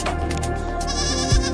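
A goat bleats loudly and close, a single sustained wavering call that fills the whole moment with no talk.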